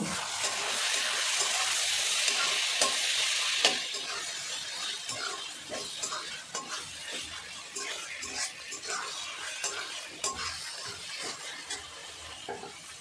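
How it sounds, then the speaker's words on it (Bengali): Chopped tomatoes stir-fried with ginger-garlic paste for a chicken kasa curry, giving a steady loud sizzle at first that eases into softer crackling and scraping stirs. "এবার আমি দিয়ে দেব কেটে রাখা টমেটো। টমেটোটাকেও ভালো করে কষে নেব"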